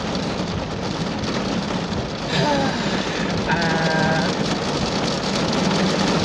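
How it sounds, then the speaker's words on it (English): Heavy rain drums steadily on a car roof, a dense close patter that grows louder partway through, with faint higher tones briefly above it. "I'm not even sure you'll be able to hear me because the rain is just so loud."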